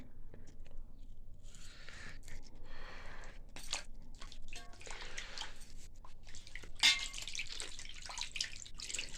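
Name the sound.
washing 2 kg of fish under running water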